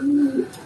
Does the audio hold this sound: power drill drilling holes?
no